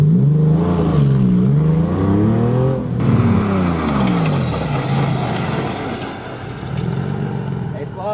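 A car revs and accelerates toward 40 miles per hour in a brake test, engine tone rising and sweeping upward repeatedly, loud and close, with a rougher noisier roar taking over midway.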